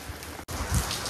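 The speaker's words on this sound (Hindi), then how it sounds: "बहुत ही बेहतरीन बारिश हो रही है।" Heavy rain pours down in a steady close hiss, broken by a brief gap and then a few heavier splashes, with no voices.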